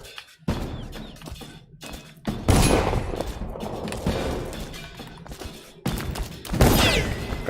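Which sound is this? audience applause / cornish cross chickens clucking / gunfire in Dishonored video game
gunfire in Dishonored video game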